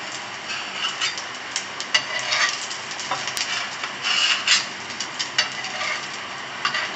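An egg paratha fries in oil on a flat pan, giving an ongoing crackling, rasping sizzle with small uneven pops and bursts, close and moderately loud throughout.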